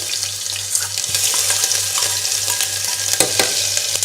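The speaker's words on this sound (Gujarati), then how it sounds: "હવે બધું સારી રીતે મિક્સ કરી લઈએ લસણ આદું અને મરચાં થોડા સતાઈ જાય" Whole cumin, two dry red chillies, curry leaves and ginger-garlic-chilli paste fry in hot oil for Gujarati dal, giving a steady, close sizzle with occasional stirring scrapes and a low hum beneath.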